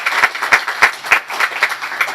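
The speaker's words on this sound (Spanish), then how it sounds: "Un aplauso" Audience applauding Mark Vásquez at an entrepreneur event, sounding like a small group clapping in loose, fairly close bursts at an irregular rhythm, without speech.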